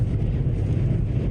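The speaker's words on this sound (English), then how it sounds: "Intense winds whipping across Texas." Intense storm winds with gusts over 80 miles per hour whip across open ground in Amarillo, Texas, a steady, loud roar buffeting the microphone throughout.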